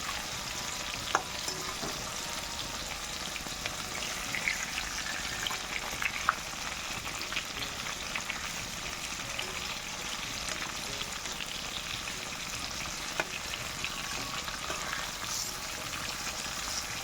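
Fish fries in a hot wok-style pan of oil in a home kitchen, giving a steady, dense sizzle with small crackles and pops, heard close and alone without talk.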